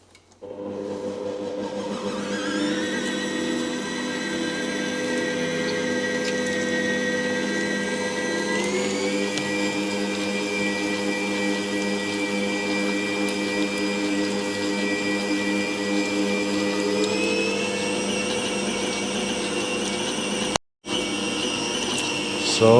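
Electric meat mincer grinding meat through a 4mm plate for Bauernbratwurst, a steady continuous motor whine with stable harmonics holding throughout, briefly cutting out near the end, no talk over it.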